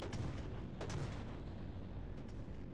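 Artillery firing in a real-time strategy video game, a steady low rumbling bed with a few distant muffled booms rising out of it, fairly faint throughout.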